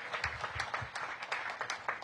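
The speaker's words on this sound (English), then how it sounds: "Let's give them another round of applause." Audience at a public homeownership event clapping at moderate level, a brief patter of scattered hands with a few sharper claps.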